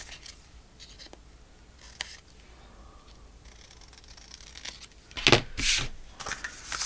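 Scissors cut off a paper pocket for a fall-themed craft: a few soft snips early on, then louder crisp cuts and paper rustling near the end, close by with no talking.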